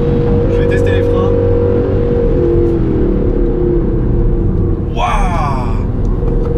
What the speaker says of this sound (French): Je vais tester les freins.